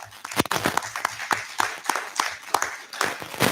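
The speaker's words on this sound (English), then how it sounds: "So I'd like to give them a round of applause." Scattered hand claps from a small group at a city council meeting, uneven and fairly close, sounding like light applause rather than a full crowd.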